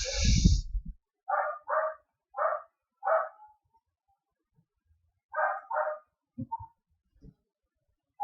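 Muffled barking from dogs in the background comes in short single and paired woofs with gaps between them, faint and distant, and a brief louder noise opens the stretch.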